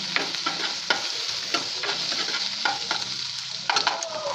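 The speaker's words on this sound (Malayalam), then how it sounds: "എന്നിട്ട് നമുക്കൊന്ന് വഴറ്റിയെടുക്കാം" Green chillies and vegetables sauté in a pan for a vegetable pulao, a steady close sizzle broken by repeated scraping strokes of a stirring spoon, with no voices.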